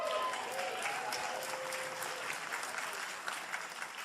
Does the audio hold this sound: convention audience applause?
yes